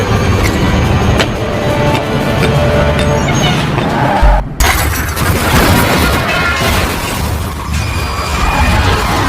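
A car blown to pieces in a cannibal horror film: a loud, dense roar of blast and shattering debris fills the whole stretch, with a brief dip midway before the crashing resumes at full force.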